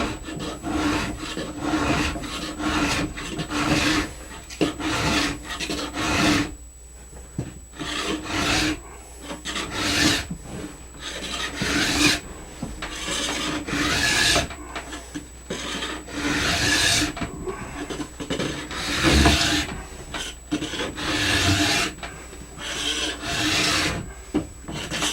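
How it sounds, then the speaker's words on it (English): A hand file scrapes along the steel edge of a new ski in repeated rasping strokes, a steady back-and-forth rhythm with brief pauses between passes, close and loud with no talk. "But we've still got a bit of filing here to do."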